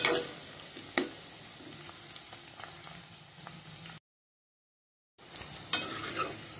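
Okra pieces cook in a pan with a soft, steady frying sizzle and occasional stirring clinks, interrupted by a brief silent gap before the sizzle resumes.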